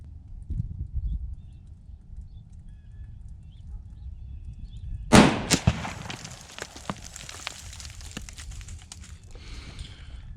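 A single rifle shot from a 25 Creedmoor firing a 133 grain Berger bullet cracks sharply midway, followed by a decaying echo. Low rustling and handling noise come before it.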